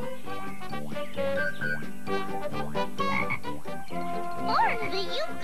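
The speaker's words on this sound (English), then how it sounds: "You want me to kiss this frog?" A frog croaks repeatedly in a cartoon-like scene, loud and close, with rhythmic throaty calls and a few warbling pitch swoops, accompanied by a musical backdrop.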